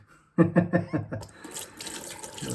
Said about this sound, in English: We'll go over to the sink, we'll rinse it off and we'll see what's happened.